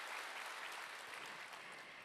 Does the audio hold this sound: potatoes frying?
no